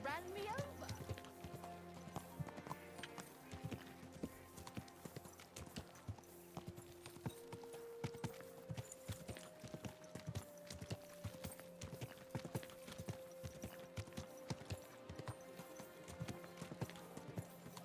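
Horse hooves clip-clopping in a medieval Bohemia video game, a steady close rhythm of clopping steps over game music, with a person talking throughout.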